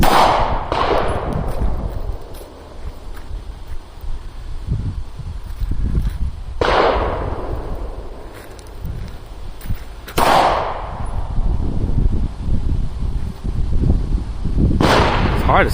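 Four loud gunshots ring out at an outdoor shooting range, spaced several seconds apart, each a sharp blast followed by a long echoing decay over steady background noise.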